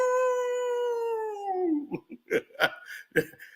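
A dog lets out a long, steady howl that slowly drops in pitch and fades, followed by several short, choppy yelps or hiccup-like sounds.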